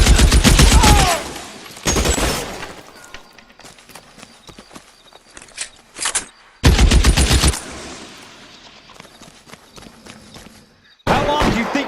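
Loud bursts of gunfire erupt in L.A. Noire, several sharp volleys separated by quieter stretches, with shouting voices between the bursts.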